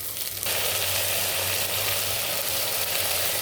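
Washed sarikandha pieces drop into hot oil with frying ginger-garlic paste for a curry, bursting into a loud, dense, steady sizzle after a brief quieter moment, with no voices.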